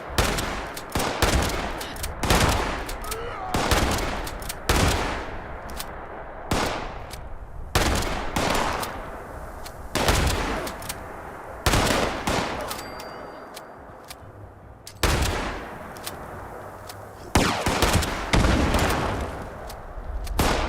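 Sustained bursts of automatic gunfire from Fallout 76 fill the clip, rapid repeated shots in waves with brief gaps, loud and close, with no talking over them.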